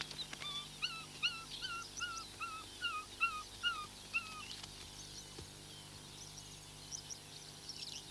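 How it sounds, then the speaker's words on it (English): African wild dog pups crying from inside a collapsed den tunnel in soft ground: a series of short, high, whimpering calls repeating in a steady rhythm, faint and muffled, then thinning out toward the end. "It's Snow White that first hears plaintive cries from the den."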